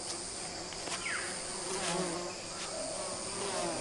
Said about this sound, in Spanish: Puede haber hasta 10 millones de abejas solo en este árbol, casi todas ellas dedicadas a la producción de miel.